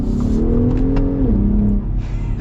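Throaty exhaust note from a 2021 truck under acceleration, a loud close engine tone rising and then dropping with a downshift before picking up again.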